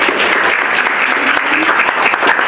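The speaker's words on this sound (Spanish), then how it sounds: "por favor, un aplauso." Steady applause from an audience at an international forum on inequality, poverty and environmental crisis, dense and continuous throughout, with no voice over it.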